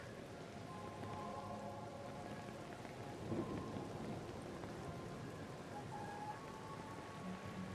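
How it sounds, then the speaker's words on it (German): Steady rainfall with a soft, distant rumble of thunder in the video game Honkai: Star Rail, quiet and continuous without talk. "Es regnet, es regnet."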